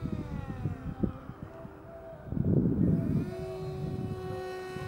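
A flying-wing model aircraft's electric motor holds a steady whine with harmonic tones, then swells louder for about a second as power is added automatically before settling back to a steady drone.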